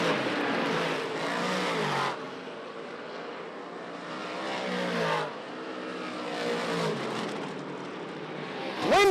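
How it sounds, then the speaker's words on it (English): Race cars roar past at over 100 miles an hour on a speedway, loud engine passes rising and fading in several overlapping waves, with a sharp revving pass near the end. "At 100 plus miles an hour, Billy Dunn powers by once again on the top"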